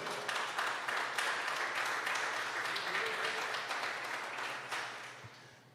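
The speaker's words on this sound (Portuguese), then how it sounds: "aplauda ao Senhor bem forte então" A church congregation applauds steadily during a sermon, a continuous wash of clapping at moderate distance, fading slightly toward the end, with a voice faintly audible beneath.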